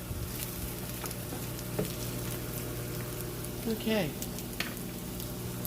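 Onions frying in a pan as part of a pork chop dinner, a steady soft sizzle throughout with a brief stirring scrape and a short spoken word over it.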